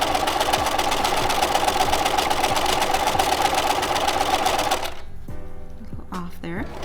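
A sewing machine stitches a French seam, wrong sides together at a quarter inch, in lightweight fabric, with a loud, fast, steady mechanical whir and rapid needle rhythm that stops abruptly near the end. A voice talks after it stops.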